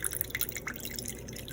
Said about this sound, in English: we're going to pour off the water